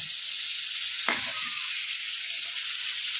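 A fish curry with yogurt bubbles in a pan, giving a constant bright sizzle with a single soft tap partway through.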